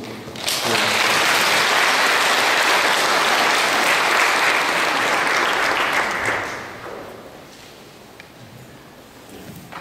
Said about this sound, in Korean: 박수로서.